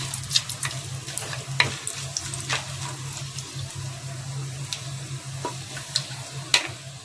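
Whole spices of bay leaf, cardamom, cinnamon, cloves and star anise sizzle in hot oil in a pan, a steady close crackle with scattered sharper pops and a low constant hum beneath, no voices.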